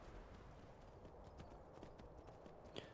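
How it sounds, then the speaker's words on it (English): Faint hoofbeats of a horse in Skyrim clip-clopping at a steady walking pace up a mountain, low in the mix under a constant background wash. "climbing the mountain with Spider horse."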